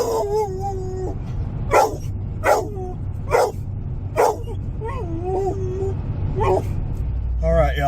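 A dog howls wolf-like in a Montana backcountry setting, giving rising and falling whining howls broken by several short sharp yips, close and fairly loud over steady background noise.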